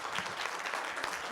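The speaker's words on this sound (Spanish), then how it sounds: "Por favor, aplauso." A brief burst of steady applause from a conference audience thanking the panel speakers on privacy and e-government, dense and even, with no voices.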